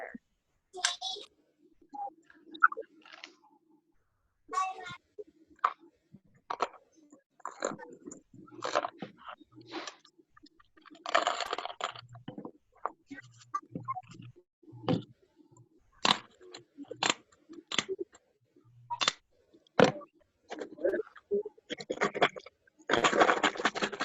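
Rocks rattle inside a homemade shaker in bursts of quick, uneven shakes, close by, with pauses between rounds and a few soft scrapes.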